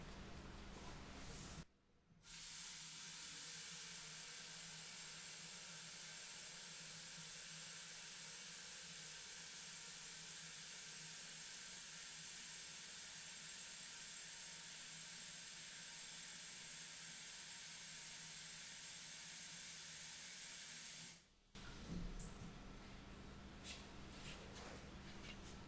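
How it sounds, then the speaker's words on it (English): Tap water runs into a bowl in a steady hissing stream for about twenty seconds, starting and stopping abruptly, in a quiet indoor setting. "I'm going to go ahead and fill up my bowl here with water"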